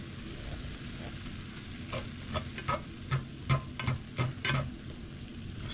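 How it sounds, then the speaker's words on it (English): Minced beef frying in a pan, a steady close sizzle with a few louder stirring scrapes toward the end, no voices over it. "I started cooking my beef."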